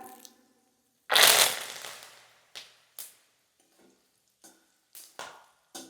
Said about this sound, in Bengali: এবার কারি পাতাগুলোকে ভেজে নেব